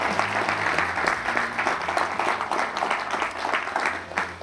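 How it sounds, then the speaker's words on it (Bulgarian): Audience applause at a Bulgarian award ceremony for best young athlete of 2024, a sustained wash of many hands clapping in a hall, steady and moderately loud throughout. "Още веднъж аплодисменти за нея."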